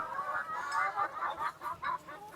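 A hen clucking at a poultry or pigeon-keeping setup, several rhythmic mid-pitched clucks close by at moderate volume, with no speech.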